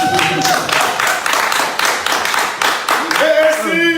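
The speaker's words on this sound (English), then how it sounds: "go clap for us now" Audience clapping at a live talk-show event, with distinct rhythmic claps under a lively room. Voices call out over it and briefly rise toward the end.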